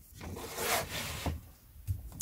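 Vintage coins being flipped over in a pile give soft, close rubbing and scraping sounds in a quiet room, a few gentle shuffles with a small click at the end.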